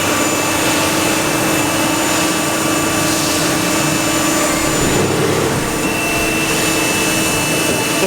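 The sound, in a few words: CNC lathe machining bicycle pedal parts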